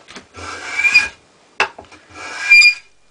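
A Wood River low angle block plane scrapes across wooden end grain in two separate rasping strokes with a sharp squeal, the sole rubbing along the surface, close and loud, with soft knocks between strokes.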